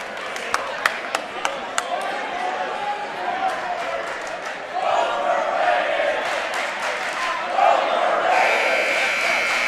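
High school boys basketball crowd in a gym cheering and clapping, a steady roar with sharp claps early on and swells of louder cheering near the middle and end, with commentary talk running over it.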